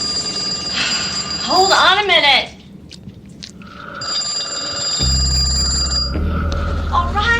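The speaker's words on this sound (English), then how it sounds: "the phone keeps ringing" An old-style telephone bell rings insistently in a tense Halloween 5 horror film scene, repeating in bursts, while someone speaks briefly between rings.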